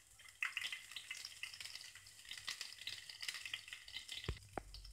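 Cinnamon sticks and a sliced green chilli fry in hot oil in a pan, a steady close sizzle with light stirring scrapes and a couple of sharp knocks near the end.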